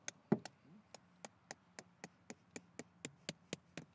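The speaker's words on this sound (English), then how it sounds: "and we'll mallet her in" Mallet knocking an inflatable awning peg into the ground beside a caravan, about a dozen sharp, close knocks in a steady, even rhythm, one louder strike near the start, otherwise quiet.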